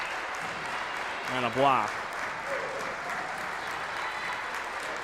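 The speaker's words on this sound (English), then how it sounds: "Leaves with a standing ovation from the crowd" Crowd applause fills a basketball arena for a player fouling out on senior day, steady and sustained throughout under a commentator's voice.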